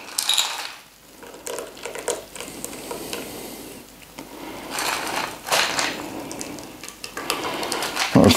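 Espresso martini shaken hard in a cocktail shaker, ice rattling and sloshing in bursts of uneven rhythm, fairly close and loud with brief pauses between shakes.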